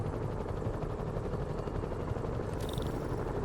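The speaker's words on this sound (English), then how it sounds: "Bet I can use those helicopters to swing." Helicopters in the video game Marvel's Spider-Man give off a continuous, even rotor drone and thrum in a noisy city soundscape, with a brief higher whine near the end and no speech.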